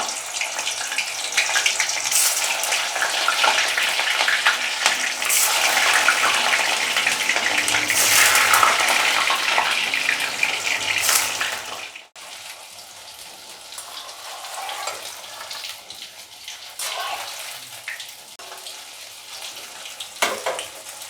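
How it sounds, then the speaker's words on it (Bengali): Pieces of chitol fish fry in hot oil with a loud, dense crackling sizzle that fills the first half, then drops abruptly to a quieter, steadier bubbling fry. "তেলটা গরম হয়ে গেছে, এবার আমি আস্তে আস্তে এগুলো ছেড়ে দিই ভাজার জন্য"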